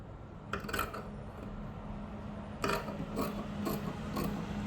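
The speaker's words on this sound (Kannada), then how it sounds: "ಬಟ್ಟೆ ಕರೆಕ್ಟ್ ಇರಲಿಲ್ಲ, ಹಾಗಾಗಿ ಕಟ್ ಮಾಡಿ ತೆಗಿತಾ ಇದ್ದೀನಿ" Scissors trim blouse fabric in a series of crisp snipping and rasping cuts, a few separate strokes against a low steady hum, close and moderately loud.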